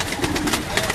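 A brief burst of low pigeon cooing from a gifted flock belonging to Ustad Ijaz Bhatt of Gujranwala, soft and continuous beneath a faint voice.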